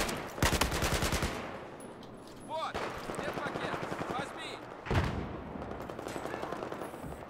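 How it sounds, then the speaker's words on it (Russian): Bursts of automatic gunfire in the video game Battlefield 4, with a sharp volley at the start and more rattling bursts later, mixed with game sound effects and someone talking. "У нас сейчас стрельба очередями, так и оставляем."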